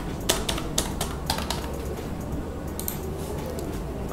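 Light, quick key clicks tap out an uneven rhythm on a Mi Pad 5 keyboard, close and fairly soft, fading toward the end with no talking.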